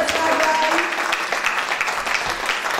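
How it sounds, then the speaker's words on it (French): An audience applauds a speaker, Sonia Remus, at a talk, a short burst of clapping mixed with some voices. "On va applaudir bien fort Madame Sonia Remus"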